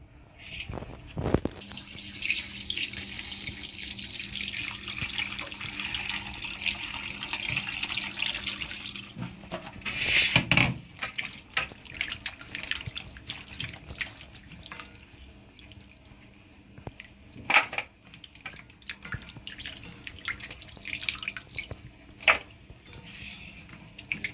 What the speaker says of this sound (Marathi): त्यांना व्यवस्थित स्वच्छ धुवून घेऊया आपण